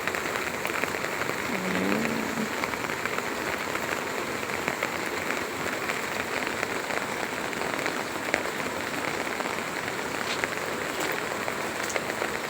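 Rain falls on a vegetable garden in a steady, close patter of drops, a constant wash of rain on leaves and soil with a brief faint voice early on.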